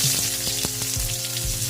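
Onions dropping into hot oil in a pan for a bangus steak sauce, a loud, steady frying sizzle with crackling bursts and a few stirring knocks, close by with no talking.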